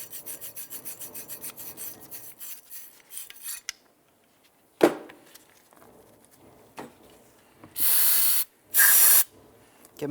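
Aerosol brake cleaner squirted onto the front brake parts of a 2007-12 Nissan Sentra, heard as two loud hissing bursts after earlier rubbing and clinking sounds.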